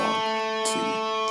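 Electric guitar playing bars from the solo, sustained ringing notes with a brief pick attack in the middle, played alone and up close.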